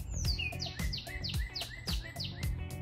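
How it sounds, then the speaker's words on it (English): Several birds sing and chirp outdoors, with repeated bright descending whistles and tweets over about three seconds, fairly close and clear with no talking. "The birds love it so much, they're singing."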